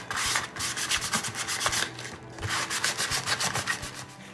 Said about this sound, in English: I'm just gonna take a little sandpaper and just kind of rough that up a little